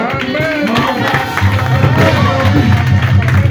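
A church congregation cheering and acclaiming God during a service, a loud, dense crowd roar of voices and clapping that swells toward the end, heard up close.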